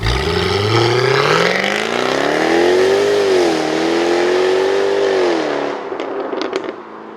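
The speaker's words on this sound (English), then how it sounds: "we work very hard to deliver a very powerful rasping exhaust note on these cars" A 2014 Jaguar F-Type sports car revs loudly and up close, its rasping exhaust note climbing, holding and falling over several seconds before dropping to idle with a few sharp crackles.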